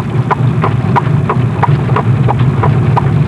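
Carriage horses clip-clop in a steady, even rhythm of hoofbeats over a constant low rumble of wheels and road noise, close and continuous.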